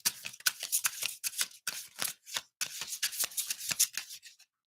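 Tarot cards are shuffled close up, giving a quick run of crisp riffling, flicking bursts in an irregular rhythm that lasts several seconds, with short pauses between runs and no voice.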